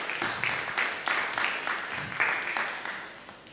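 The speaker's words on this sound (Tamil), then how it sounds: "பலத்த கைத்தட்டலுடன் வரவேற்போமாக" A church congregation at a Sunday Tamil service applauds newcomers with a steady, moderately loud burst of clapping from many hands, filling the room evenly for several seconds with no talk over it.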